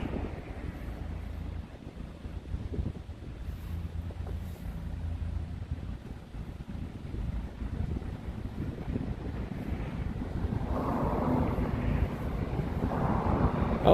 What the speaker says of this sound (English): Oh shoot, there's a plane right, or a helicopter right there.